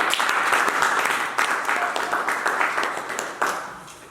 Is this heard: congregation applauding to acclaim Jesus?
yes